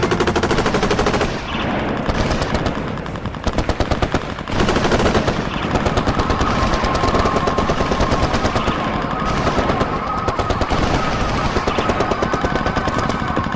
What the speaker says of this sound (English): In a matter of seconds, a hurricane of bullets.